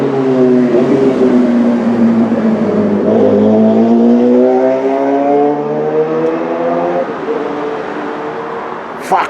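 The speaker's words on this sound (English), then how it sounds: "Fucking motorcycle," A loud motorcycle roars past close by, its engine note sweeping up and then falling away over several seconds before fading out.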